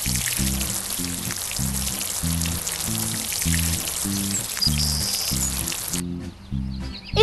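Cartoon water pouring onto garden patches, a steady splashing trickle over a bouncy looping music track that cuts out near the end.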